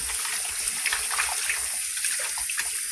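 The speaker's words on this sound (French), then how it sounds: "je vais rincer ça avec de l'eau propre" Cleaned catfish rinsed under clean running water, a steady close splashing and gushing like a tap filling a basin, continuous for the whole stretch with no talking.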